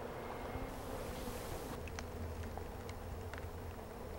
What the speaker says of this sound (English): These are Italian bees,